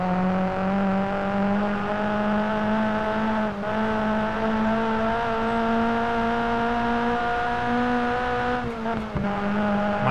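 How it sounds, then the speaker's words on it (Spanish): A Peugeot 106 rally car in the Sébastien Loeb Rally video game climbs Pikes Peak with a steady, loud engine drone, and brief dips mark clutch and gear changes. "me encanta cómo suena el embrague cuando le haces el cambio"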